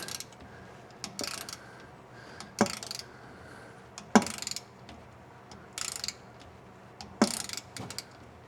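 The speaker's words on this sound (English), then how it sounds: "I know you ain't supposed to be ratcheting, but I do a little bit with your torque wrench." Torque wrench ratcheting on the rear differential of a 2006 Colorado, heard as scattered bursts of metallic clicking and clanks separated by quiet pauses, close and fairly faint.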